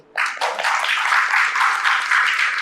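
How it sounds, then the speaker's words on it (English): An audience at a seventh-anniversary satsang gathering breaks into sudden applause, a dense, steady burst of many hands clapping that holds evenly to the end. "Give one round of applause to all of you."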